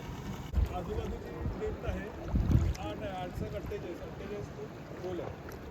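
A boat carries passengers over the sea on a dolphin safari off the Sindhudurg coast, with steady wind and water rumble running throughout and people talking over it.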